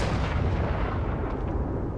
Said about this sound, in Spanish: ¿Es una explosión o es un trueno, tío, eso? ¿Qué pasa? Una explosión.